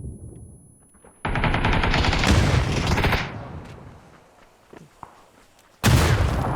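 Gunfire in the video game PUBG, a loud sustained burst of rapid automatic shots, then quieter scattered reports and a sharp single shot, ending with another loud sudden burst.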